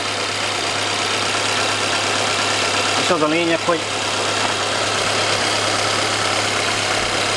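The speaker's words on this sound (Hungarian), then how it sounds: "Aztán, ha már jár a motor, akkor dettó rá lehet nézni." A car engine idles steadily and loud throughout, a constant low mechanical hum, while someone speaks briefly over it partway through.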